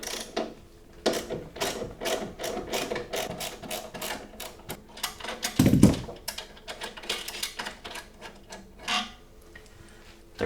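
A 13 mm wrench loosening the nut on a washing machine motor makes a series of quick, near metallic ratcheting clicks in irregular bursts, with one louder clunk midway through.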